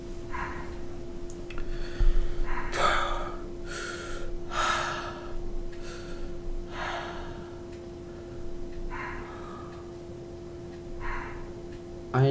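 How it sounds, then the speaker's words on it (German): Air suspension of a city bus in the OMSI 2 bus simulator, set on line 65 in Freyfurt, hisses in repeated breath-like bursts, about six rising and falling puffs spaced a second or two apart over a steady low hum. "Da denkst du, der Bus atmet."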